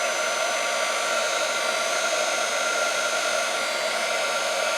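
A heat tool on its lower setting blows over Grafix shrink film, a loud, steady whooshing drone that holds unchanged throughout.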